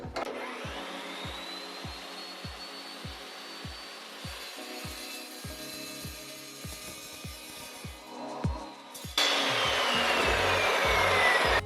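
Cold-cut power saw slicing steel tubing for a homemade go-kart, with regular rhythmic cutting strokes and a steady motor whine, then a louder, brighter grind near the end.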